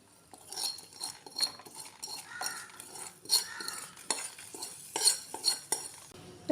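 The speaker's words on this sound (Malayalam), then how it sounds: "ഇനി ഇത് നമ്മുടെ മോരുകറിയിലേക്ക് ഒഴിച്ചു കൊടുക്കാം" Cutlery clinks and scrapes against a pot as hot tempering is poured into Kerala buttermilk curry (moru curry) and stirred, giving a string of close, irregular metallic taps with a faint hiss underneath.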